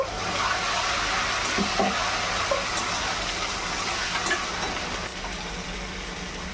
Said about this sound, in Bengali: এবার আমি এর মধ্যে আদা, রসুন আর কাঁচা লঙ্কা পেস্টটা দিয়ে দেবো।